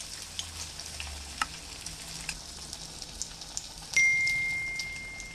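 Chicken kebab patties fry in hot oil with a steady soft sizzle and light crackling pops, a sharp clink partway through and a lingering ring near the end, with no talking.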